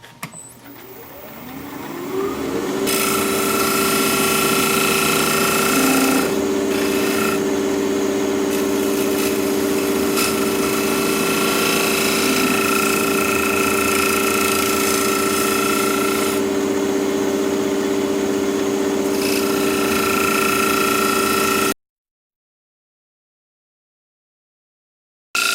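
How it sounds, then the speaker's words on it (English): A woodturning tool is sharpened with a steady, loud mechanical whir and rasping grind that holds for about twenty seconds, with slight shifts in tone, then cuts off abruptly into silence. "I'm going to sharpen up again because I'm not happy with the finish I'm getting here."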